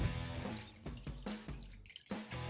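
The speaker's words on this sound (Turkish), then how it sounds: "Önce mavi suyumuzu şöyle dökelim." Blue water for a children's ice experiment is poured from a container, trickling and splashing faintly in an uneven stream with brief gaps, and no talking.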